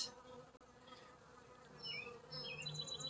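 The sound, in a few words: honeybees buzzing around a beehive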